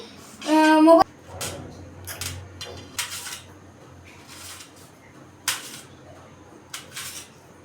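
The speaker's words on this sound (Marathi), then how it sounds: "चला टमाटे कापून घेऊ" Tomatoes being sliced on a board at home for paneer bhurji, a series of short, sharp knife chops at an uneven pace, fairly close and clear, with a brief voice at the start.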